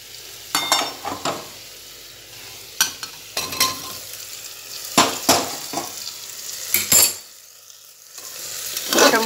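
Pointed gourd and potato pieces stir-fried in a pan, with a spatula scraping and knocking in irregular bursts over a frying sizzle that fades into a quieter hiss near the end.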